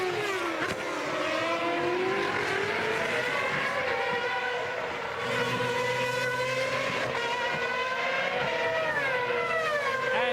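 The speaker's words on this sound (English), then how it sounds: "Turns in, and Alonso is on his way" Formula 1 race cars scream around the 2006 Australian Grand Prix circuit, a continuous loud, high-revving engine whine with rising and falling pitch as cars pass and shift gears, layered with several engines at once.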